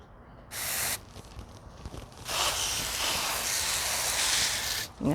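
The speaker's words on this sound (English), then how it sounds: "So I'm gonna turn my hose to mist" A garden hose set to a fine mist sprays over early plantings in a short hissing burst, then a longer steady hiss after a pause, close by with no talking.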